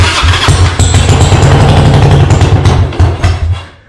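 An off-road shifter go kart engine, freshly welded into its frame, fires up and runs loud and close with a rough, steady throbbing that holds for several seconds before easing off at the end.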